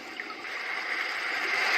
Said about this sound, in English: This is the sound of water.